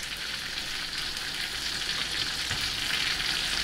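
A ribeye steak searing in a pan, a close, loud and unbroken sizzle with bright crackling spread evenly across the moment, no voices.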